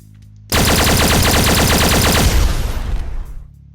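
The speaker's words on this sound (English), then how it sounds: "slot 4 is a plasma pulse gun" Plasma pulse gun in a sci-fi video game fires a loud, sustained rapid burst of pulses for about three seconds, then trails off as the weapon stops.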